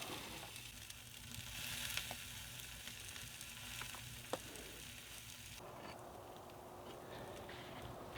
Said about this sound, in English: I'll let that fry up a little bit